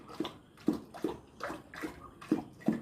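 A pet dog called Charlie laps up water in steady, rhythmic bursts, about two slurps per second, close by and fairly quiet with no voices.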